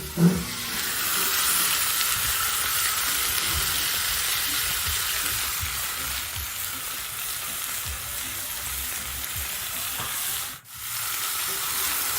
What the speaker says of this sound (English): This is using the barbecue plate, just doing some lamb chops.